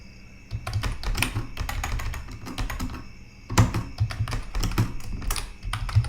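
Typing code on a computer keyboard: dense, irregular clicks and clacks in quick bursts, a short pause near the midpoint, then steady keystrokes again, close and clear with no talking.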